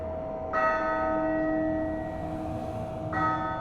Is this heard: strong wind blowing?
no